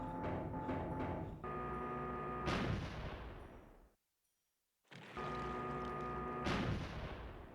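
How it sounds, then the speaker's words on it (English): A cannon fires in Star Fox Adventures, two heavy booming blasts with a ringing tonal tail, each followed by a decaying rumble and separated by a short silence. "Just fooling around with this cannon, nothing more."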